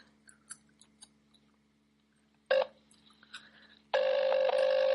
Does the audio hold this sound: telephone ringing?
yes